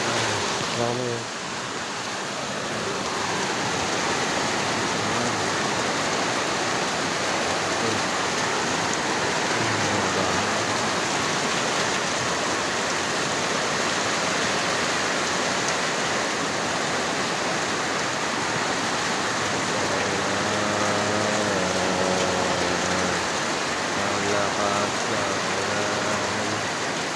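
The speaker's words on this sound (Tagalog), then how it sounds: "Lakas ng ulan din sa amin. May bagyo na kami." Heavy typhoon rain pours down steadily and loudly throughout, a dense continuous roar of water with faint voices briefly audible beneath it.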